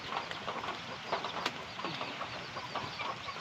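Several chickens cluck and murmur continuously at moderate volume during feeding, with short scattered calls overlapping through the clip and no voices.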